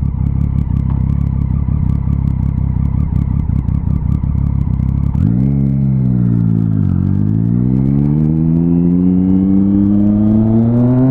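A motorcycle on the road in Curitiba gives a loud, close engine rumble with clattering wind and road noise, then the engine tone dips and climbs steadily as it revs up again.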